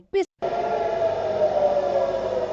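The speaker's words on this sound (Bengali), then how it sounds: "শহর জুড়ে সাইরেনের শব্দ যেন মৃত্যুর বাদ্য বাজিয়ে প্রাণনাশে আসছে জমদূত" A civil defense air-raid siren sounds across a city in Israel, breaking in after a brief clipped burst as one steady, sustained wail that sags slightly in pitch.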